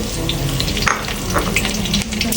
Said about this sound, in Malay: Kita tumis serai, daun salam dan lengkuas.